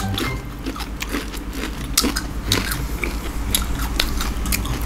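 Close, steady crunching and chewing of crisp kerupuk pasir crackers during a mukbang, with repeated crackly bites over a constant low background and no speech.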